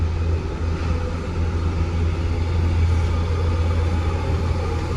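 Steady road traffic rumbles close by with a deep, continuous low drone and broadband hiss from passing vehicles, no distinct horns or voices standing out.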